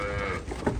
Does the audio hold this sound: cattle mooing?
yes